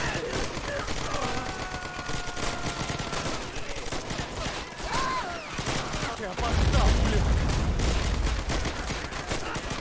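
An anti-tank rifle firing on an enemy half-track in the Men of War: Assault Squad 2 war game, with a World War II 1941 Moscow defense setting: repeated gunfire and fusillade bursts, heavier near the end, mixed with battle noise.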